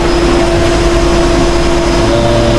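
Two machines run together at a work site in Saudi Arabia, a steady, loud engine drone with a sustained low rumble and fixed tones, continuous and unbroken throughout.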